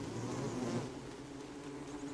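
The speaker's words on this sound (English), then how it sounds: "leave me alone, bees" Steady, close insect buzzing from a swarm of bees in the video game Don't Starve Together, a continuous droning hum that holds at an even level for about two seconds with no talking.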